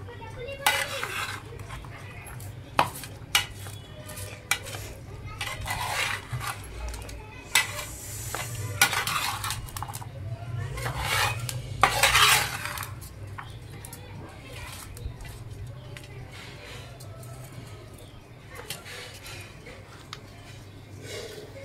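A spoon stirs a curry mixture in a pan with repeated scraping and clinking strokes over a steady low sizzle, fairly close, continuing throughout with irregular louder knocks.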